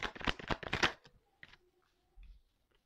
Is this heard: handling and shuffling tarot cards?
yes